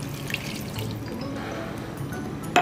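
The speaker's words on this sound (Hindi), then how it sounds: "अब इसके साथ मैं इसमें ऐड करूंगी 1 गिलास पानी।" Water from a glass poured into a pot of mutton cooking with turmeric and onion for Manda Gosht, a steady close splashing pour running throughout with a brief louder clatter near the end.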